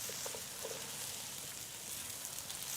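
Seasoned meat and onions sizzle in a hot pan with a steady, close crackling hiss, continuous and fairly quiet throughout.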